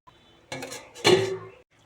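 Lid placed over a cooking pot of fish chorchori after water is added, a short metallic clatter and scrape followed by a louder clank of metal on metal, close and without talking.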